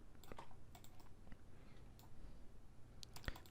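Computer keyboard keys pressed during 3D modeling work, a handful of sharp, quiet clicks scattered irregularly over faint background hiss, with a close double click near the end.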